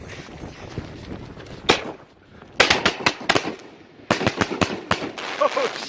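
Pyro Junkie 60g canister fireworks burst outdoors in a series of loud, sharp booms, some in quick clusters with short pauses between, against a background of crowd noise and faint talking.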